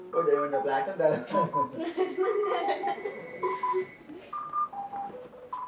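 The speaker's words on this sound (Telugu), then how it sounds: "చూడు ఇంకో కాల్ చేస్తుంది." A phone's call-waiting tone, a string of short electronic beeps at steady pitches signalling another incoming call, heard up close under and between people talking.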